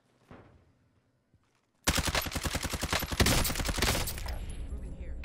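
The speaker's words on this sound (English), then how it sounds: "I think I just got sniped from top fire." Gunfire in the Call of Duty: Warzone video game, a loud rapid burst of automatic shots starting abruptly after a near-silent stretch and continuing densely to the end, following a faint brief voice at the start.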